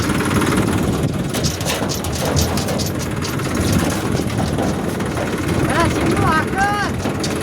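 A tractor engine running steadily while hauling hay, a continuous rumbling drone that holds throughout, close and loud, with faint voices mixed in.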